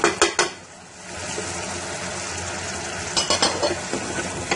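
A spoon stirs tomatoes and spices in a cooking pan, with sharp metallic clinks at the start and end and a steady sizzling scrape of stirring in between, close and fairly loud, with no talking.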